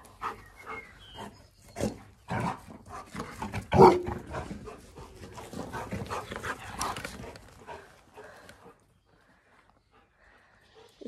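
Dogs in a garden bark in scattered sharp bursts and pant, with one louder bark midway and a voice calling to them, fading to near quiet at the end.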